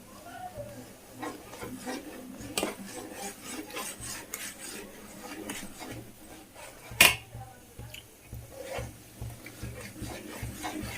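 Ragi mudde, a thick finger millet dough, is stirred in a pot over medium flame, making soft repeated scraping and rubbing strokes with one sharper knock, fairly quiet and close.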